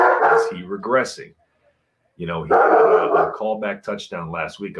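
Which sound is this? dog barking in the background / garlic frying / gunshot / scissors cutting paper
dog barking in the background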